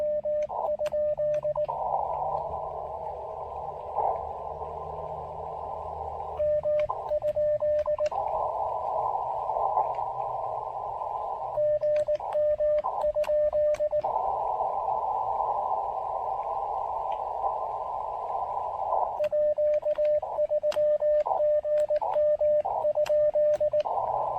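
A faint ham radio signal pulses on and off amid a steady hiss of static, with occasional clicks and crackles.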